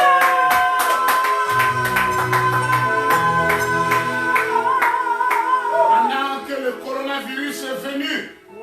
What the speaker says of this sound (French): Les acclamations.